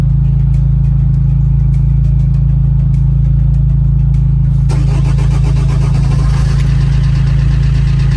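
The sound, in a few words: Vauxhall Corsa D 1.3 diesel engine starting and idling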